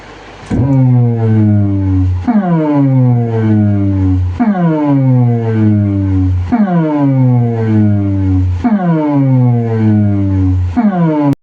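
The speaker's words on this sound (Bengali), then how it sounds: "তো এটা শর্ট স্ট্রোক বিট করা আছে, এটাও শুনিয়ে দিচ্ছি।" A short stroke beat plays back from a cassette on a tape deck. It is a loud, repeating electronic pattern of descending pitched sweeps, cycling steadily about every two seconds with no voices.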